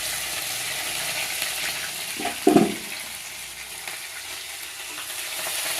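Onion, green chillies, cumin and mustard seeds fry in oil for a raw banana curry, a steady broadband sizzle with a brief louder burst of stirring or clatter partway through, no talking.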